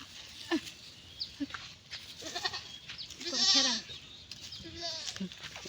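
Goats bleat several times nearby, one long wavering bleat standing out among shorter calls, with quieter voices in the background.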